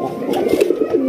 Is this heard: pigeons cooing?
yes